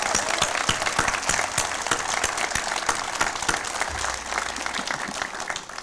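Sustained audience applause for firefighters and EMS providers at a fire station grand opening, steady dense clapping from a crowd filling the whole stretch, loud and close with no talk over it.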